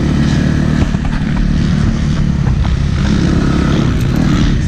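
Motocross motorcycle riding out at a dirt MX track, a loud steady engine drone close by with a continuous low rumble throughout and no voices.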